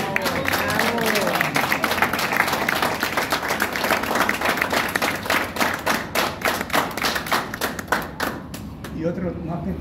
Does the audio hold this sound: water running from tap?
no